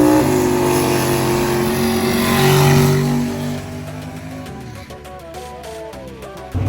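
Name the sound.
fast race cars accelerating at a charity race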